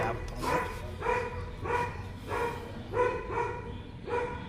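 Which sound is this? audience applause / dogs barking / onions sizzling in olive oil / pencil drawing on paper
dogs barking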